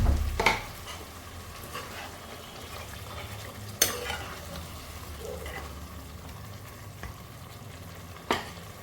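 Chicken frying in a pan as a little water is added, giving a steady sizzle with a few sharp knocks of a utensil against the pan.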